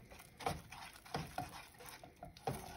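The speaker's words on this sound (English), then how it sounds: "So just keep stirring and stirring and stirring." A spoon stirs a thick, clumping mixture in a small pot, scraping the sides in soft, irregular strokes, faint and close with no talk.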